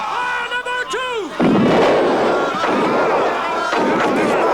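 Period cannon fire grape shot in a 1984 George Washington war drama: after shouted battlefield orders, a heavy boom erupts and rolls on as a long, loud rumbling roar of battle noise.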